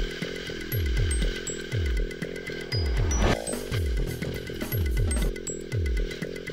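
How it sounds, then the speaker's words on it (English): Table-clamped pasta roller being cranked to squish sculpting clay, a loud close repetitive mechanical whirring and knocking in steady rhythmic bursts, with no talk. "it's a roller that can squish all my clay together and it works really well"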